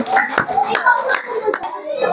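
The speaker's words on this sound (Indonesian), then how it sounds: "Beri tepuk tangan dulu buat kelompok pertama." Elementary school children clap in quick bursts at close range in a classroom, mixed with young voices chattering over the noise.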